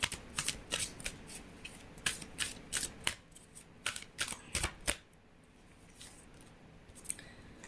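A tarot card deck being shuffled up close, a quick run of crisp riffling snaps for about five seconds, then quiet.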